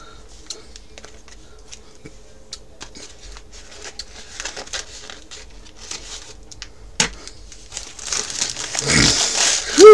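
Plastic-wrapped package being cut and torn open, with faint crinkling and scattered rustles building to louder, close crumpling and tearing of plastic near the end; a voice speaks briefly.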